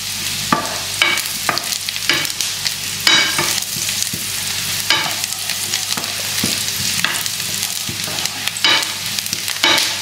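A butter-based mixture browning in a pan, stirred steadily so it won't darken, with a continuous close sizzle broken by repeated scraping strokes of the spoon across the pan.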